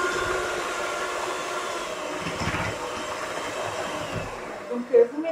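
Electric hand mixer beating vanilla sugar and sugar into a batter, a steady close motor whine running continuously, cutting off near the end with a couple of brief clicks.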